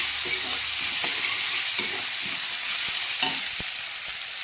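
Chopped onions frying for aloo sagu, a loud, steady sizzle in a pan with occasional stirring scrapes, close and continuous with no talk.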